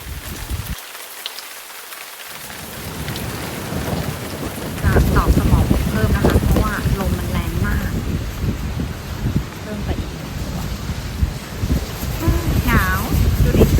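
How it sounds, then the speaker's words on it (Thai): Heavy rain and strong wind lash a camping car at a farm in Sikhio, Nakhon Ratchasima, Thailand, a dense, loud drumming hiss with gusting buffets that thickens midway, while a person talks over it. "ตอนนี้ฝนตกเริ่มจะแบบลมแรงมาก"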